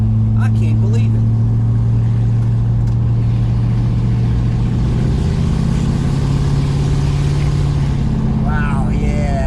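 A 1964 Dodge Polara 500 with a big block engine pulls along a back-road highway, its deep steady drone and rumbling exhaust running loud and continuous inside the car.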